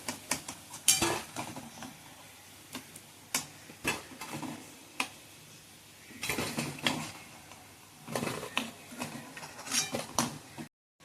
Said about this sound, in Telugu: కలియదిప్పుతూ వేయించుకోవాలి, లేకపోతే ఒకే సైడ్ ఉంచాలంటే మాడిపోతాయి